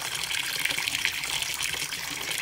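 Water gushes steadily from a pipe for a dog to drink outdoors, a continuous hissing, splashing stream heard up close with no one speaking.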